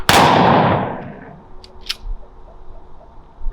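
A single loud rifle volley fired on command at a fire department ceremony, its sharp crack decaying into outdoor ambience, followed by a couple of faint distant clicks.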